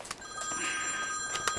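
A mobile phone rings from inside a pocket with steady tonal electronic ringing throughout, fairly faint and muffled, with brief rustles and no talk.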